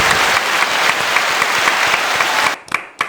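A small group applauds a welcomed guest, brisk continuous clapping that breaks off near the end into a few scattered final claps.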